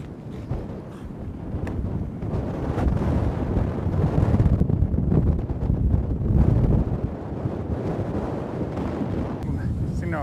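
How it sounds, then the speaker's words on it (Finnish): Strong wind buffeting the microphone outdoors on a high viewpoint above a Scottish city, a loud continuous low roar that surges and swells for the whole stretch. "Ui, mikä tuuli lähtee."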